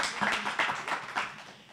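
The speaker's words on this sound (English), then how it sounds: "y'all can clap it up right there" A church audience claps and applauds, a short, dense wash of many hands at moderate distance, swelling in a few uneven pulses.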